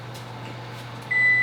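A microwave oven hums steadily at close range, then gives a sharp electronic beep near the end.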